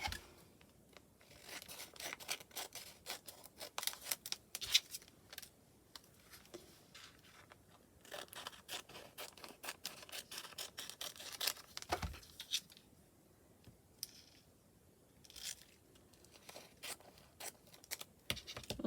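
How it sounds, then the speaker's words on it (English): Scissors snip through a sheet of acetate for a handmade journaling card, giving a run of quiet, crisp cuts and rustles close to the microphone with no one talking. "Scissors."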